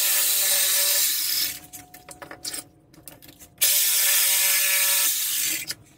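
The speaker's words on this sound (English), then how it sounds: "I'm just gonna use a reciprocating saw and hope for the best" A reciprocating saw cuts through metal motor mounting tabs during a Razor MX650 electric motor upgrade, giving a loud steady buzzing rasp in two bursts separated by a pause of quieter handling noises.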